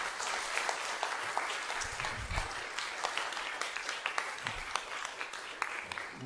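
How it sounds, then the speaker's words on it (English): An audience at an environmental justice conference gives steady, sustained applause, with many hands clapping at a moderate distance throughout. "Big hand of applause for Lauren, please."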